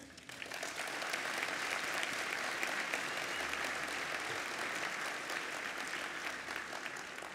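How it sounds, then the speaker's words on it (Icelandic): Applause for the candidates at a party conference, a dense, sustained round of clapping from a large audience that swells quickly and holds steady for several seconds before easing slightly. "við gefum þessum frábærum frambjóðendum sem við tala hér í dag frábær klapp"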